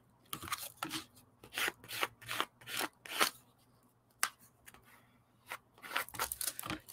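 Art cards being shuffled and slid by hand, a series of short papery rasps and swipes in uneven bursts, close and fairly quiet with brief pauses between.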